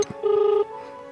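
A telephone ringing in a Haryanvi family comedy sketch, a single short electronic ring tone, clear and close, followed by quiet.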